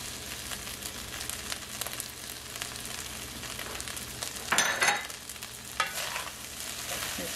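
Scallions stirred into Chinese fried rice in a hot pan, with a continuous sizzle under scraping and tossing of the rice and a couple of louder clatters of the utensil against the pan.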